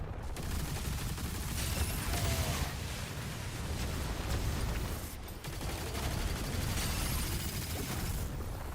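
Rapid gunfire rattles almost nonstop while enemies are shot down in DOOM: The Dark Ages, loud and close, with a brief lull partway through.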